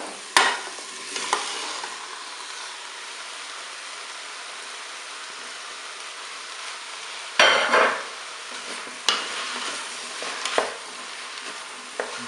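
Potato pieces being stirred in a Cookeo multicooker, a faint steady frying hiss broken by a few sharp scraping and clattering bursts of the utensil against the pot.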